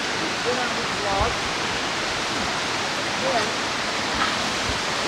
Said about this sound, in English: this is the main falls over here